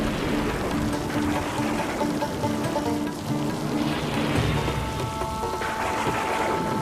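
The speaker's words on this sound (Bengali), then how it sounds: "প্রচণ্ড বৃষ্টি পড়ছে যে" Heavy rain pouring down at night in a thunderstorm, a dense, loud, unbroken hiss of drops close by that fills the whole stretch without a break.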